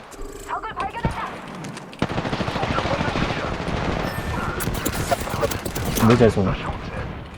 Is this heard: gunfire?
yes